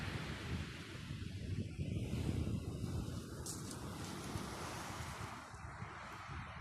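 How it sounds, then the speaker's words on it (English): Ocean waves roll and wash in with a broad rushing surge, some wind noise on the microphone, and no voices. "And the waves roll in and the waves roll out again."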